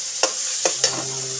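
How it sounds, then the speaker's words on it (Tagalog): Tomatoes cooking in a hot pan, a few sharp stirring scrapes and clinks over a soft continuous sizzle, close and brief, without talk. "Kailangan naman maluto itong kamatis"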